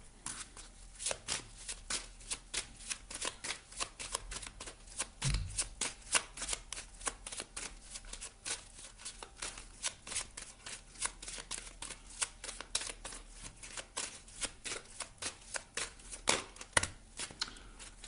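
A deck of oracle cards shuffled by hand in a steady run of quick riffling rustles and soft slaps, close and alone with no talk.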